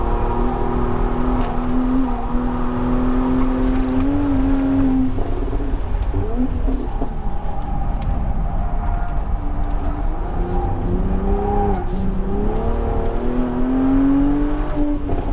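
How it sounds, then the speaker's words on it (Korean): Mercedes-AMG SLC 43 turbocharged engine revving on a race track at Inje Speedium, a loud continuous in-car drone rising and falling through the gears with steady road and wind roar throughout. "이게 터보 엔진이다 보니까 출력이 6천을 넘으니까 이미 이 끝, 엔진 회전이 끝나버려요"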